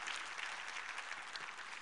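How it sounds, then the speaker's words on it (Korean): A church congregation applauds the choir after worship singing, producing a brief, soft, distant wash of clapping. "우리 성가대에게 한번 감사의 박수 드리겠습니다."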